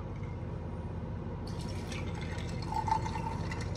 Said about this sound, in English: Okay, so then I'm gonna pour the coffee.